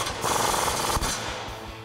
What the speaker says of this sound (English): We're gonna thread our castle nut on. And we're gonna tighten this down with the 24 millimeter socket.